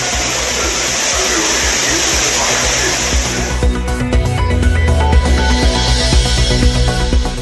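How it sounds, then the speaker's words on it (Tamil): Courtallam waterfall roaring loud and steady while people bathe beneath it, a dense broadband rush of falling water that continues throughout, changing character partway through. "குற்றால அருவியில் குளிக்க தடை நீக்கப்பட்டதால் சுற்றுலா பயணிகள் உற்சாகம்."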